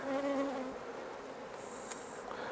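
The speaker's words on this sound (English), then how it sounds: "you can either just brush the bees away with your fingers" Honeybees buzz during a nuc hive split while old queen cells are being removed, a close, steady, dense hum that holds without a break and carries no voices.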